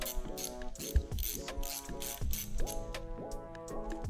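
A ratchet wrench clicks as it torques down the camshaft caps on a Nissan GT-R RB26 cylinder head, with close, crisp bursts of rapid pawl clicks in several short back-and-forth strokes and a small clunk early on. No talking.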